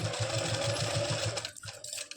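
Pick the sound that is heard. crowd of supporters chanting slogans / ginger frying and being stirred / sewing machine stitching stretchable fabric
sewing machine stitching stretchable fabric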